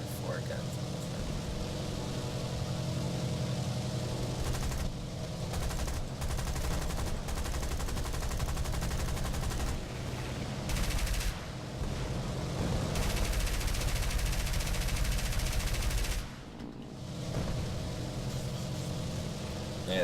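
Rapid machine-gun bursts from a four-gun fighter aircraft in a flight combat video game, fired at a Bf 109, forming a loud, dense, steady stream of gunfire with brief breaks and engine drone underneath.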